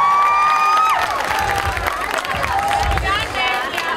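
At a graduation show for a school's graduating class in Tirat Carmel, a crowd cheers and claps loudly with shouts and whistles rising over the noise, while voices talk throughout.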